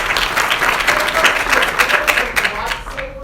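An audience applauds at a performance of Shakespeare's Henry V, a loud dense burst of clapping from a close crowd lasting a few seconds.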